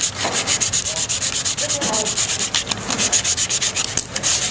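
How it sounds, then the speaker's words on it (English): Wood is hand-sanded with 280 grit sandpaper in rapid, even back-and-forth strokes, a close, steady rasping rhythm with no talk. "now we're going to go with 280 grit sandpaper and just finish it off."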